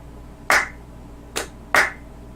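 Three sharp hand claps for syncing a camera's picture and sound, spaced unevenly about a second apart, close and crisp in a quiet room.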